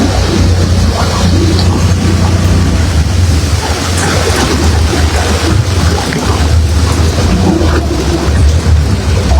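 Heavy rain pouring over a flooded street in Dhaka, a loud, dense, continuous wash of water noise with a low rumble underneath and no talking.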